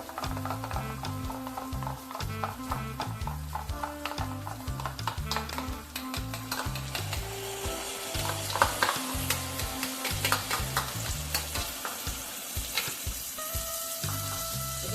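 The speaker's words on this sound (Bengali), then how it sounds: "এবার আমি দেবো টক দইটা, আমি একটু আমি ফেটিয়ে নেবো" Sour yogurt is whisked for a Bengali doi capsicum dish, making fast, even, rhythmic strokes that continue steadily and close up, with a soft sizzle and hiss underneath.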